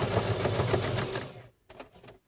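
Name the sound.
sewing machine stitching thread through a card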